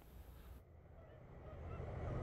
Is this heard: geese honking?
yes